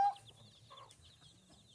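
A chicken clucks softly in short repeated bursts, fairly close, with faint background noise and a brief sharp sound at the start.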